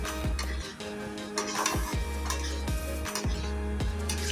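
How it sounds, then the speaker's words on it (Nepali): A utensil stirs onion, capsicum and a cornflour slurry in a pan for soya chunk chilli, scraping in steady repeated strokes over a soft sizzle, close and fairly loud with no talking. "प्याज क्याप्सिकम र स्लरीलाई चाहिँ मजाले मिक्स गर्ने हो"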